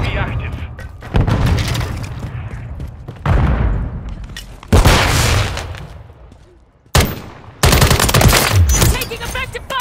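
Gunfire in Call of Duty Modern Warfare 3 multiplayer on the BAS-B Rio map, loud bursts of rapid automatic fire broken by short pauses, with heavy thumps and radio chatter mixed in.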